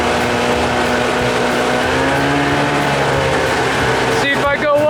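A 30 hp Evinrude outboard motor on a small boat runs loud and steady at high throttle, its droning pitch wavering slightly as the hull moves, then roughening at the end.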